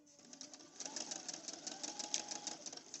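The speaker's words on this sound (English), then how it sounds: "I'm using my brother Innov'is sewing machine and this free stitching" A Brother Innov'is sewing machine with a free stitching foot runs in a quick, steady rhythmic whirr as it stitches brown thread over a stenciled fabric pocket, faint and close, with no talking.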